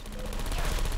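Turret gunfire in the Portal 2 video game: a short, loud burst of rapid, continuous shots.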